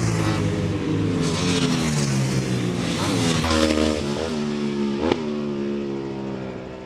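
Racing motorcycles of the Reve Racing Team rev at Oulton Park circuit in Cheshire, a loud, close engine drone rising and falling in pitch through repeated throttle blips, with no voices over it.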